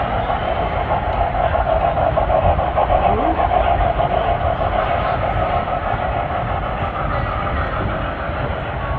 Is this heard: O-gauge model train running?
yes